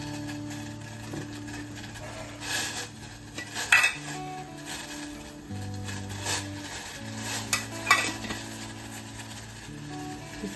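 Metal pots and utensils are scrubbed and washed by hand in a home kitchen, with continuous scraping and swishing broken by sharp clinks and clatters of metal on metal, close and fairly loud.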